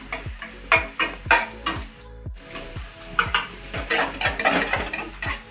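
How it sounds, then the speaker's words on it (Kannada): Curry leaves, ginger and garlic frying in a hot pan, with steady sizzling and repeated clinks of a spoon stirring against the metal in a quick rhythm, close and fairly loud, briefly pausing midway. "ಶುಂಠಿ ಮತ್ತು ಬೆಳ್ಳುಳ್ಳಿ ಹಾಕಿದ್ದಾರೆ. ಫ್ರೈ ಮಾಡ್ತಿದ್ದಾರೆ, ಚೆನ್ನಾಗಿ ಫ್ರೈ ಮಾಡ್ತಿದ್ದಾರೆ."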